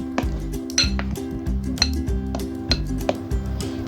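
Fruit cake batter mixed in a bowl, heard as a rhythmic series of thick squelching strokes with light clinks of the utensil against the bowl, repeating roughly every half second and close by.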